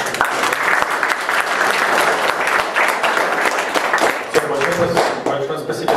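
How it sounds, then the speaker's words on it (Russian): Loud, sustained applause from a tech meetup audience welcoming a speaker, a thick wash of many hands clapping that carries on for several seconds before easing slightly near the end. "Бурные аплодисменты."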